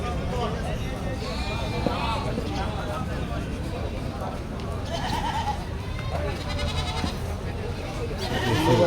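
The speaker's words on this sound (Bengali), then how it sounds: "বেশিরভাগই ছাগল।" Goats bleat repeatedly amid the busy hubbub of a crowded livestock market on the second day of Eid at Gabtoli cattle market, with many animals calling near and far over steady crowd noise.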